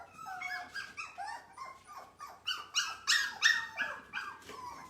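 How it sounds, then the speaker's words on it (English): Several puppies whimper and squeal in high, wavering cries, overlapping and growing louder toward the middle, close by with no talk. "These little puppies don't want to be not nursing from their mummies."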